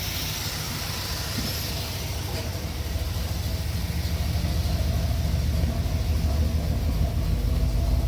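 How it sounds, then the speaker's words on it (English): A car fitted with a Flowmaster exhaust gives a steady, loud, low rumble from close behind, a continuous droning roar that swells slightly over time with no talk. "So it's got a bit of a rumble to it. It's got a flow master installed"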